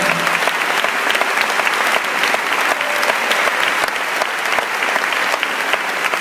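A church congregation applauds, dense sustained clapping from many hands filling the space at close range and loud, with no break across the whole stretch.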